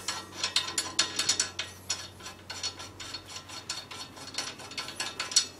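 A ratchet wrench loosens a wheel nut on a 2009 Suzuki Alto petrol car during front brake pad and disc replacement: quick bursts of rapid ratcheting clicks in an uneven rhythm, close and moderately loud.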